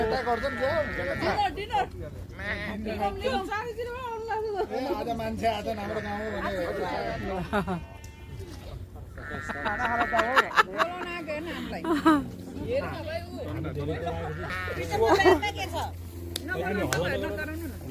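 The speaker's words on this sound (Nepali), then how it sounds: "अर्को खाले भेडा रहेछ" Sheep bleat repeatedly, several animals calling close by on a Box Hill hike, while people chat and talk over them throughout.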